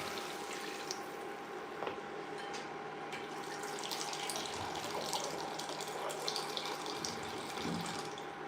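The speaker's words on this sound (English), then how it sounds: "So we're gonna add 2 cups of water." Water flows steadily from a tap as two cups are measured out for a solyanka soup, a soft, continuous trickle with a faint hum behind it and a few light clinks.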